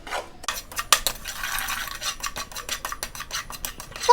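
Ingredients roasting in ghee in a metal pan, stirred with a spoon that scrapes and clinks in rapid repeated strokes over a soft frying sizzle, close and fairly loud.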